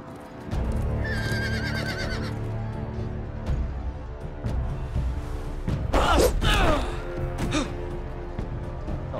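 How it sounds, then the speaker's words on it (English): A horse whinnies in a video game set among the Freys, with hoofbeats and rattling gear under it. The neigh starts with a high shrill and then a louder, wavering call in the middle, over constant loud game ambience. "Use that horse."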